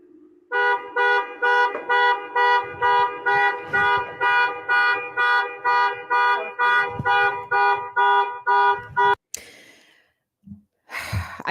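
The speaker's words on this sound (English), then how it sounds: "the car beeping in the background" A car alarm beeps loudly in a fast, steady repeating pattern for several seconds, then stops abruptly, followed by brief muffled noises.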